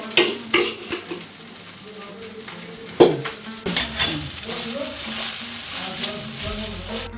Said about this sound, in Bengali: আমি ভাতটা নাড়া দিয়েছি